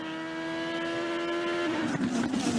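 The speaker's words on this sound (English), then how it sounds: "Dixon passes Andretti" IndyCar race cars roar past on a racetrack, a steady loud engine note that shifts and fades as the cars go by, with no talk over it.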